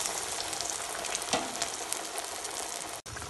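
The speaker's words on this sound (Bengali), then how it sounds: "এবার চপগুলো একে করে আমি তেলে দিয়ে ভেজে নেব" Potato and onion pakora chops deep-frying in hot oil at medium heat give a close, constant crackling sizzle with scattered pops, with no voices over it.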